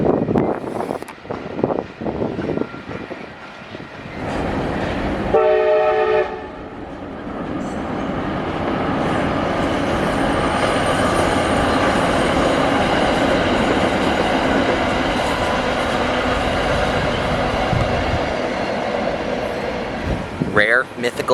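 An Amtrak San Joaquin single-deck train passes along a Bay Area line, a loud sustained rumble of wheels on rail that holds steady for most of the stretch, with wind and a brief voice near the start.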